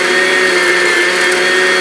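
A meat grinder runs steadily, grinding steak and Italian sausage with a loud, constant motor drone and no talking.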